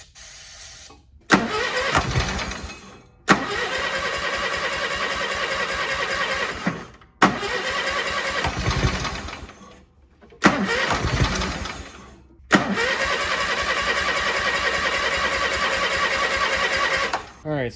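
An old Cub Cadet lawn tractor engine, abandoned for years, is cranked repeatedly. Several bursts of starting and running are broken by short pauses, and the engine is loud and close.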